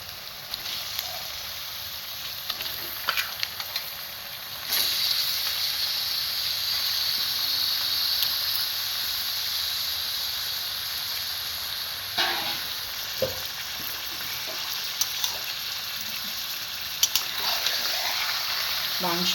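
Chicken pieces frying with onions in a pan, a steady close sizzle that swells when the meat goes in and keeps hissing with occasional stirring clicks.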